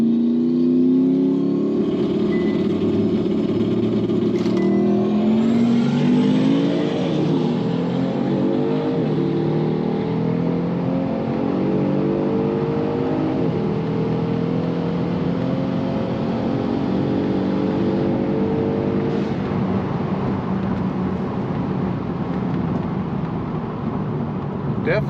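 A 2020 Genesis G70 3.3T launches down a drag strip quarter mile, its engine revving loud and climbing through several gear changes, with shifts heard as pitch drops, then fading toward a steady distant drone.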